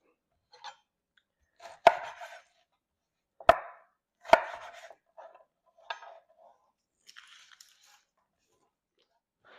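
A knife chops Brussels sprouts on a cutting board in a handful of sharp, scattered strikes with short pauses between them, close and fairly quiet, with no talking.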